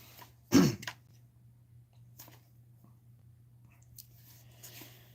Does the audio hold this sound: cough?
yes